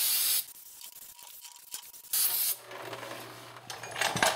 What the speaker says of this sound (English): Just use a little bit of brake cleaner and wipe all this down.